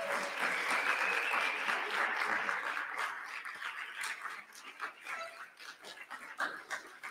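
A congregation at a spiritual celebration claps warmly, the applause loud at first and then thinning into scattered claps and a few cheering voices.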